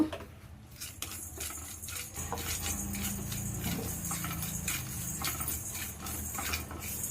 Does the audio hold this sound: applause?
no